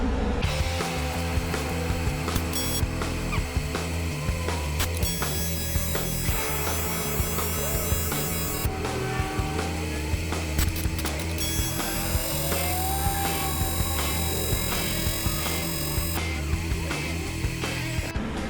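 Stick welding with a rod on a 1979 Ironhead chopper, with the rod running too hot: a steady, dense crackling buzz over a constant electrical hum that holds for the whole stretch, close and fairly loud, with no talking.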